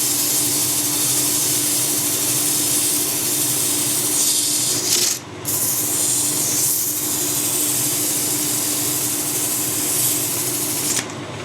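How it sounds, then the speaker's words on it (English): Emery tape gently rubbed over a slightly pitted metal part of a Harrison lathe, a steady continuous abrasive scraping that runs nearly the whole time, close and fairly loud, with brief pauses. "A nice gentle rub with the emery tape will take care of them."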